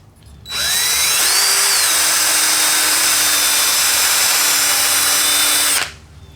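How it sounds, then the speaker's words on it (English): A small power drill with a very small bit whines steadily for about five seconds, drilling a pilot hole in antler, its pitch rising briefly as it bites in, then cuts off; close and loud, no talking. "I'm going to make sort of a little pilot hole with a very small drill bit"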